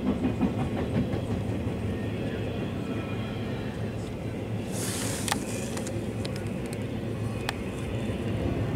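Empty freight cars of a passing train rumble steadily, with a broad continuous roar and occasional sharp metallic clanks and squeals, loud and close throughout.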